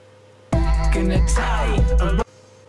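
Vocal treated with a tape stop effect made with Gross Beat in FL Studio, a single close, loud burst of about two seconds whose pitch bends and slides before cutting off abruptly.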